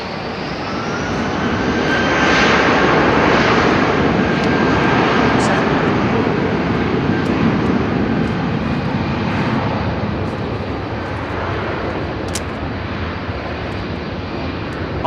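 A passenger airliner's engines roar loudly and continuously at London Heathrow Airport, a broad, sustained rumble and whine that swells slightly and then holds steady, filling the whole span.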